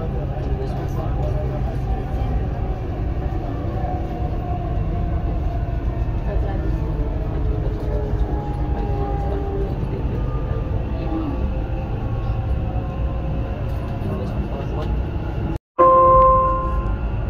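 Dubai Metro urban rail train running on the line toward Expo 2020, a steady loud rumble with rising and falling tonal whine from the motors, continuous throughout, with a brief cut near the end.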